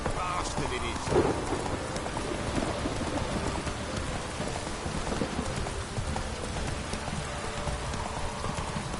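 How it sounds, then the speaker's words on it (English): Steady heavy rain in the video game The Witcher 3: Wild Hunt pours down in a dense, constant hiss, with soft clopping and rumbling mixed underneath. "This downpour's a bastard"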